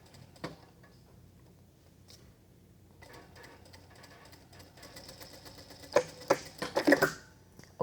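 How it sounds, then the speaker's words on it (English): Sewing machine stitching along a chalked diagonal line through a suit jacket sleeve hem: after a quiet stretch, a burst of rapid, close mechanical clatter rises near the end, loud and alone with no talk. "And then we're gonna sew directly through that chalked diagonal line as well."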